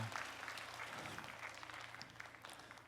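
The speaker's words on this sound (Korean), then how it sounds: "주님께 영광의 박수 올려드립시다." A church congregation applauds together, steady dense clapping from a crowd in a large room that holds for the whole stretch and eases slightly toward the end.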